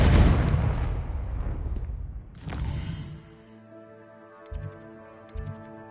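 A Confringo blasting spell goes off in a Harry Potter game as a booming explosion that decays into a rumble, followed by shimmering tonal game sounds and a couple of soft thuds.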